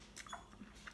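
A bite of home-cooked beef roast is chewed close to the mic, with soft wet squishing and brief biting crunches over about a second, quiet and with no talking.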